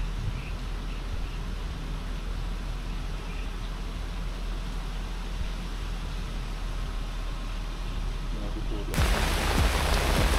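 Sudden rain pours down steadily as a dense, even hiss, then swells louder and harsher near the end, with no voices.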